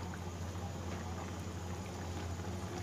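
Beef karahi gosht sizzling steadily as it is fried bhuna-style in a karahi, with a continuous close, even frying hiss and no pauses.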